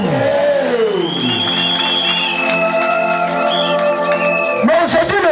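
Church congregation cheering and acclaiming Jesus, a loud sustained roar of voices with whoops and held shouted tones, rising again near the end.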